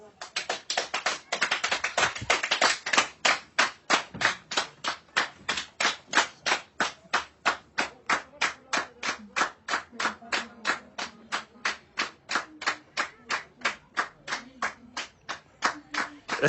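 A steady rhythmic clapping goes on for about sixteen seconds, with loud even beats that sound like a single pair of hands or a small group clapping in time.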